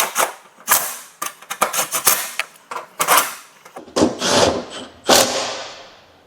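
Bolts being driven into the freshly straightened tray of a totaled high-mileage Escalade, a series of sharp metallic clicks and ratcheting bursts in irregular runs, close up.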